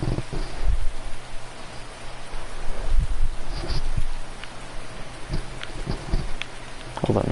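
Steady rain falls in a Farming Simulator game world, a continuous broadband patter with scattered brighter drops and a low hum underneath, moderately loud throughout.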